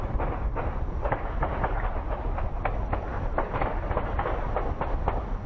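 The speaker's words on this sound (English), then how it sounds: "A security camera at a nearby home captured the sound of the intense gunfire." Intense gunfire from a shootout on a residential street, caught by a home security camera, comes as a rapid string of sharp bangs, roughly a dozen shots over a few seconds against a steady background rumble.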